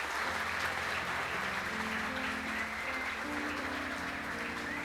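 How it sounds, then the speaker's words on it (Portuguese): A church congregation applauds after a baptism, a steady wash of many hands clapping at moderate distance, faint under a sustained organ or keyboard chord. "Podem bater palmas."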